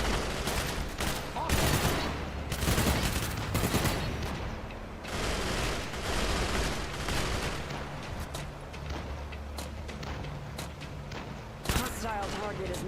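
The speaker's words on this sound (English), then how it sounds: "Now we are armed with an LMG and a grenade launcher," In a video game, an LMG and a grenade launcher fire in dense bursts of gunfire and thumping blasts that keep going through the whole stretch. A voice talks over the shooting at times.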